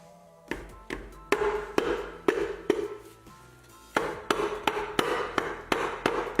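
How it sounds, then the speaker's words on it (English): Rubber mallet tapping the cover of a Mazda RX7 13B rotary engine during teardown to break its seal: a run of sharp, close taps in uneven bursts, briefly pausing before a second steady series. "we can use a rubber mallet and lightly break the seal"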